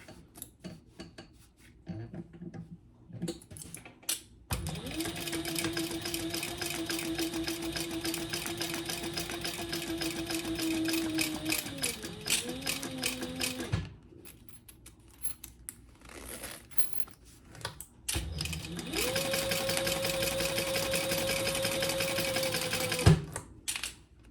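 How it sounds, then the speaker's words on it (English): A sewing machine stitches a seam in two long runs, each several seconds of rapid, steady mechanical chatter with a whirring motor tone. The runs are split by a quieter pause with light handling noises, and no one speaks. "we'll sew that at the full seam allowance"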